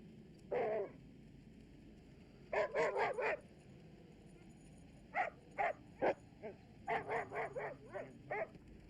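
Sled dogs in Antarctica bark and yip in short scattered bursts, several dogs at a moderate distance, with quiet gaps between volleys and no voices.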